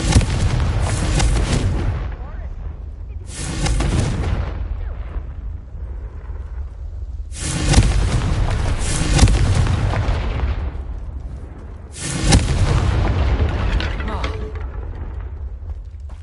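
Confringo spell blasts in the Hogwarts Legacy video game, three or four heavy booming explosions with rumbling tails, each followed by a quieter decay before the next loud burst.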